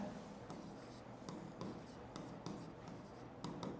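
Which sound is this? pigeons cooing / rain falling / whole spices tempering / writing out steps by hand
writing out steps by hand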